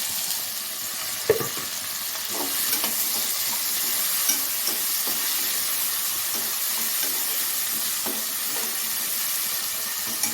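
Tomatoes and ginger garlic paste sauté in a hot pan, a steady close sizzle with occasional stirring scrapes and soft clicks from the spoon throughout.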